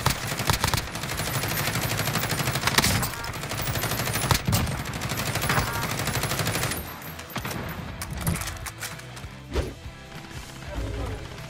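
Machine gun fire with extended mags tears into a vehicle in Warzone, a loud sustained rapid burst of shots with impact crashes, then scattered shots and movement as voices talk over the action.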